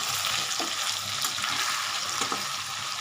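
Fish curry with potatoes simmering and sizzling in a pan, with an even hiss and soft, irregular stirring scrapes close by, and no voices.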